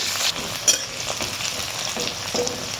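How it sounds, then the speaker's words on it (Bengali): Onions frying in mustard oil for a chicken dish, an even close sizzle with a few brief scrapes and taps from stirring, no one speaking. "পেঁয়াজটা এবার লাল লাল করে ভেজে নেব"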